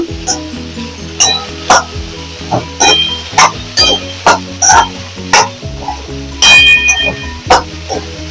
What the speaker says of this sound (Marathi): आता हे व्यवस्थित आपल्याला थोडं लाल होईपर्यंत भाजून